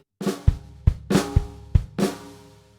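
A drum kit plays a short syncopated funk bar: loud, sharp bass drum hits and snare strokes with flams, about six close strikes in under three seconds, ringing out at the end with no voices.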